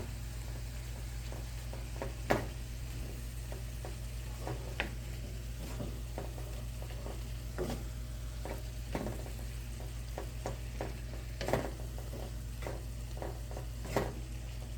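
Chicken stirred in a hot frying pan with a steady sizzle throughout, broken by scattered clicks and scrapes of the utensil against the pan, close and fairly quiet, no voices.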